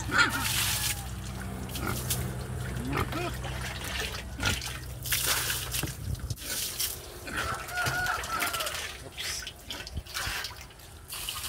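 Pigs grunt and snort amid farmyard sounds, with chickens clucking and water dripping nearby, and occasional voices in the background.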